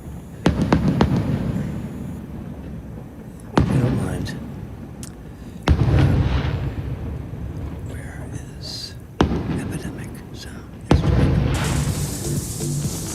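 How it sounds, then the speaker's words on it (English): Fireworks bursting in a played-back recording, several sharp booms spaced a few seconds apart, each followed by crackling decay, moderately loud with faint talk in the background. "You know who invented fireworks?"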